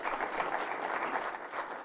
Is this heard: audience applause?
yes